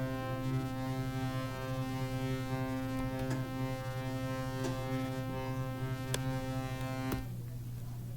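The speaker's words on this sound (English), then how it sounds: "if we play a piece of audio with that fluttering, it sounds like this" A synth patch with modulation and no compressor plays a droning tone that flutters unsteadily, a buzzing harmonic hum with periodic dips and clicks, then cuts off near the end.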